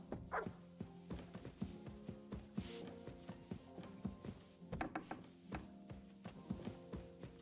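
A dog barks in quick repeated yaps over a busy game-like soundtrack with steady rhythmic tones, the barks moderately loud and clustered rather than isolated.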